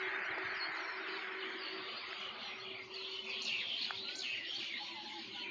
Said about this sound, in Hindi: और चहचहाट चिड़ियों की चहचहाट